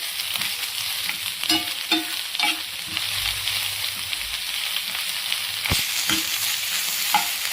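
Ginger garlic paste fries in a pan for a carrot curry, a steady close hiss of oil with scattered soft clinks and scrapes of a stirring spoon.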